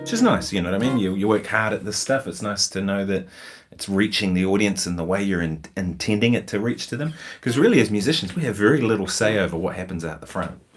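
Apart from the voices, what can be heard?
No everyday noise stands out behind the speech.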